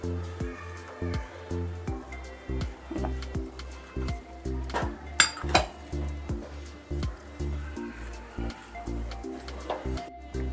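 A spoon is stirred steadily through ragi soup in a pot, making a regular scraping swish about twice per second, up close, with a brief voice partway through.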